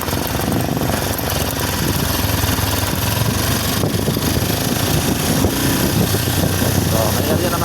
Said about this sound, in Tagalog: So kaya mapapalaban yung motor natin guys. Kasi rough road.